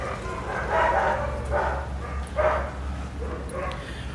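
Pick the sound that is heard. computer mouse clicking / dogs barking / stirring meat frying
dogs barking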